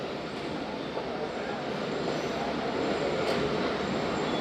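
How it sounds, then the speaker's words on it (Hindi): The 47Up Rehman Baba train pulls into a station at night with a broad, steady rolling rumble and hiss at a moderate distance, holding constant without any voices. "ज़बरदस्त आ गई जनाब ट्रेन"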